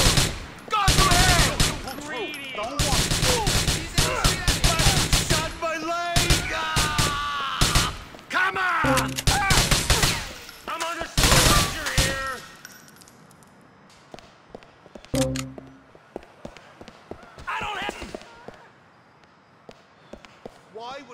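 Gunfire in the video game GTA IV rattles in dense, loud rapid bursts for about twelve seconds, then thins to scattered, quieter single shots and impacts.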